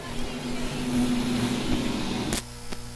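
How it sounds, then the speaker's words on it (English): Stock car engines at a USRA race start on the Lakeside Speedway oval, a loud sustained droning roar holding steady for over two seconds, then cutting down sharply to a quieter rumble near the end. "Foot to the floor, engines roar."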